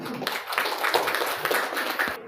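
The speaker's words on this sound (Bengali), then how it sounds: "আমরা সকলেই করতালি দিই।" An audience claps together at an award ceremony for National Library Day in Mymensingh, a dense, steady patter of many hands that holds for a couple of seconds before stopping abruptly.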